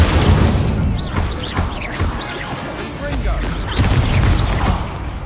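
Hogwarts Legacy spell combat: a spoken incantation sets off a crackling burst of the Incendio fire spell, with booming impacts and whooshing magic layered under the caster's voice.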